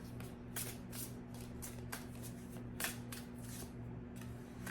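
Tarot cards being shuffled and drawn, a close, quiet run of repeated crisp riffling slaps and flicks over a faint steady hum.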